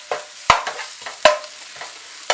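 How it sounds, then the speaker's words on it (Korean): Onions and blanched spinach sautéing in a frying pan with melted butter: a soft steady sizzle broken by several sharp scraping stirs of a utensil, close and clear with no talk. "양파를 색 나지 않게 볶아주시다가 시금치 넣어주세요."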